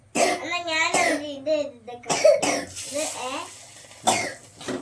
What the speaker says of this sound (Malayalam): ചുമയാണോടാ?